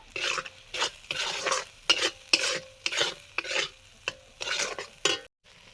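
Cumin paste and a little mustard paste go into a pan, and stirring sounds close by in bursts of scraping strokes about every half second, with faint frying beneath and no voices.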